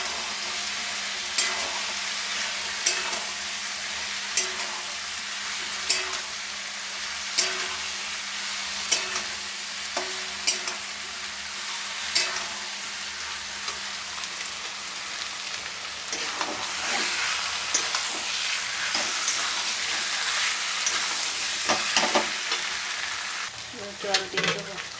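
Boiled taro pieces fry in a hot pan with a dense, continuous sizzle, while a spatula stirs them in frequent sharp scrapes and taps that grow busier toward the end.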